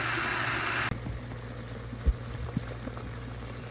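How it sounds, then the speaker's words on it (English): Water pours into a pot of lamb curry in a steady, hissing splash lasting just under a second, then cuts off to quiet kitchen sounds with faint bubbling and small knocks. "So now I'm going to add my water to it now."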